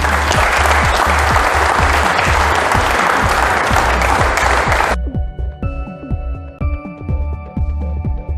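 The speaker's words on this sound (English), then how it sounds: "So please give them a hand of applause." Loud, dense applause from an assembly team of employees gathered in a new assembly hall in Port Elizabeth, sustained for about five seconds before breaking into scattered, fading claps.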